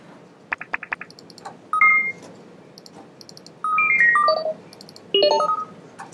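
A sci-fi sound effect from the iLife library plays alone: a quick burst of clicks followed by clusters of electronic beeping tones and short rising and falling computer-like chirps, clear and close.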